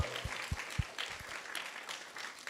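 An audience at a devotional lecture gathering claps in a burst of applause, with sharp separate claps near the start that settle into a softer, steady patter. A faint voice is audible underneath.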